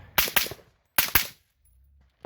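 A rifle fitted with a YHM Turbo T2 suppressor fires 55 grain ball ammunition outdoors: two sharp, close pairs of muffled cracks about a second apart, each followed by a short decay before quiet.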